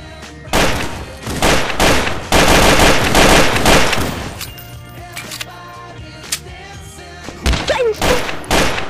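Video game gunfire on a multiplayer server: loud, close bursts of rapid automatic shots come in clusters, with a long volley in the middle and short scattered rounds toward the end.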